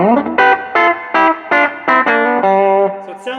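Electric guitar with effects playing a country lick in repeated double-stop bursts with slides up, about eight short rhythmic phrases, close and loud with some distortion and chorus.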